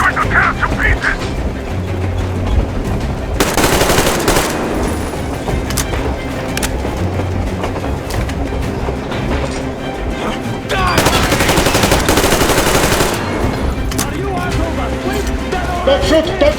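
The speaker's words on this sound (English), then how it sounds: "A bullet for each of you! I'm shooting you personally!" Gunfire rattles through the video game Metro Exodus, a continuous loud exchange with heavier bursts that come and go, and a voice shouts over it.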